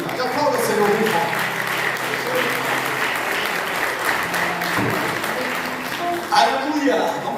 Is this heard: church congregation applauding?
yes